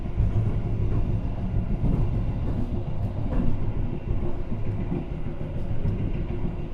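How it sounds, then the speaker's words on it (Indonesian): The Argo Bromo Anggrek passenger train passes straight through Tegal station with a continuous, heavy rumble of wheels and carriages and faint rhythmic clatter, loud and close throughout. "Kereta api Argo Bromo Anggrek ini menjadi satu-satunya kereta penumpang yang melintas langsung di stasiun ini"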